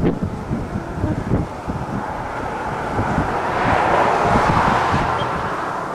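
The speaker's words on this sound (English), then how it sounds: "it was so windy" Strong wind during a tornado outbreak in Cherokee, Oklahoma, roars and buffets the microphone continuously, swelling louder toward the end, with no voices heard.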